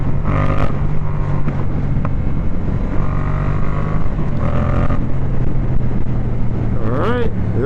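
A stunt motorcycle, a Yamaha MT-07, revs up and down as it runs through its gears, with rising engine tones recurring several times close by over wind noise.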